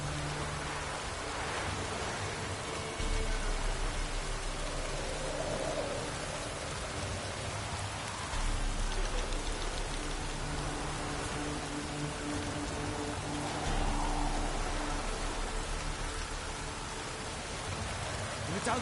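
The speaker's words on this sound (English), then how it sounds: "If it don't stop raining, my arse will rot off." Steady rain falls in The Witcher 3 video game, a continuous wash of hiss that stays even and moderately loud from start to end, with low rumbling swells coming and going beneath it.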